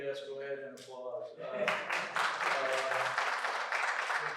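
Audience at a Cerritos College accreditation forum breaks into applause after a speaker's voice, a dense burst of clapping that swells and holds steady in the room.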